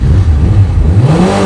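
A motorbike engine revs hard during a burnout, a steady loud roar whose pitch climbs toward the end, heard close up with no talking.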